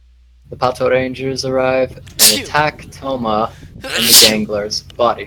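A person sneezes sharply and loudly in the middle of steady narration, with someone talking both before and after the burst, followed by another short forceful exhale.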